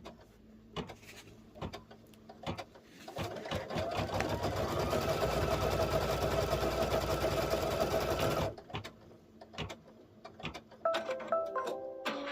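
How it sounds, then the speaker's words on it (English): An embroidery sewing machine stitching a straight line on a zipper purse runs in a steady, fast mechanical whir for several seconds, framed by scattered clicks and handling taps before and after. "it's just going to do a straight line stitch to stitch them two pieces down"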